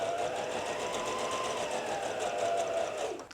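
Sewing machine stitching a cross piece onto the neck of a baby frock, a continuous close motor whir with rapid needle chatter that slows and stops at the end.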